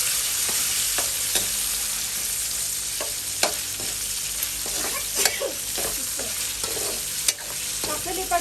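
Tofu frying in a pan while being cooked for lumpiang sariwa, with a steady, loud oil sizzle and scattered stirring scrapes and clinks on top, close to the pan, no one speaking.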